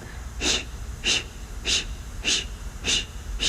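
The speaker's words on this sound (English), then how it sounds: "It's gonna be in and out by the mouth. It will look and sound like this." Six forceful exhalations through the mouth during a yoga breathing exercise, evenly spaced about every 0.6 seconds, each a short breathy whoosh, close and alone.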